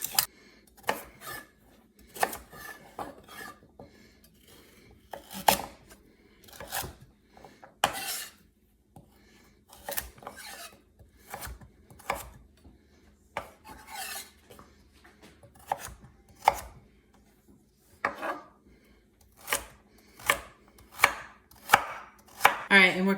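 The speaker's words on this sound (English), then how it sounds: "We'll peel and dice the carrots." Knife chopping peeled carrots on a cutting board in a home kitchen, a long series of crisp, distinct thuds in uneven bursts, close and fairly loud, with no talking.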